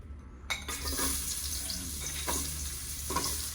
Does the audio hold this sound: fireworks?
no